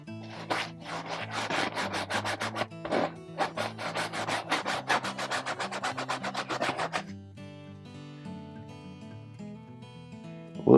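Rapid, even scrubbing strokes of a brush working phthalo blue paint onto canvas for a seascape, a steady rasping rhythm over soft background music, pausing briefly near the end.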